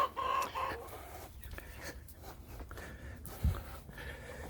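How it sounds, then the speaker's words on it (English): A small backyard flock of chickens, younger birds among them, clucks softly at middle distance in a quiet setting, with a few scattered calls and a brief low thump near the end. "those are the younger chickens over there. They're part of the flock"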